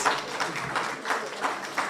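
Audience applause at a research, technology and innovation day event in Jamaica: a steady, moderately quiet wash of many hands clapping, swelling in small waves throughout.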